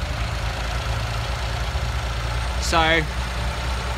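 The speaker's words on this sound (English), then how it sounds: "It's only just idling," Carburetted car engine idling on fuel vapour, a steady low rumble throughout, close by, with someone speaking briefly over it.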